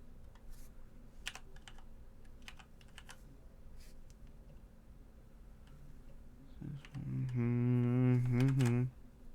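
Quick clicks of computer keys tap out an authenticator code in a quiet room, faint and irregular, ending in a louder tonal burst near the close.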